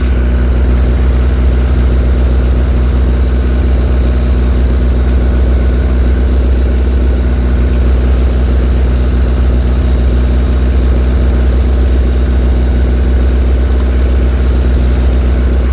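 A Skoda Estelle 120's carburetted engine idles close and loud, steady with a deep rumbling throb and carburettor intake hiss, unchanging throughout.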